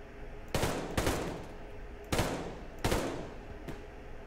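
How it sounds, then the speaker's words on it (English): Sniper rifle shots in the video game Suravarium: four loud, sharp cracks with short decaying tails, fired at uneven intervals about a second apart. "I'll pull out the sniper rifle."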